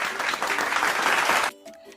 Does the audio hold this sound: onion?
no